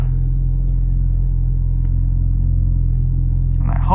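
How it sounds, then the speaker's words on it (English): Alfa Romeo Giulia exhaust gives a steady, deep idle grumble heard close from inside the car, with a faint voice near the end. "Nice grumble on the exhaust."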